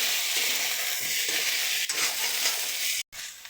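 Chicken frying with turmeric in a pan sizzles steadily and loudly while being stirred, with a dense hiss broken by a brief dropout near the end.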